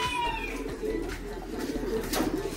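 A pigeon that escaped its cage coos close by in a short, soft burst of throaty notes over low background noise.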